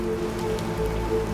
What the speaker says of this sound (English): And now it's raining. In the cemetery.